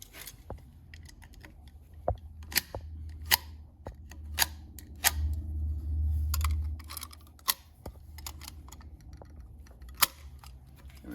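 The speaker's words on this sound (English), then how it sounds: "Got a little bit of curl in the back I'm going to cut off." Sharp, dry cuts as a curl is trimmed from the back of an axe handle, a string of separate snips and clicks at irregular intervals over a low background hum, close and fairly crisp.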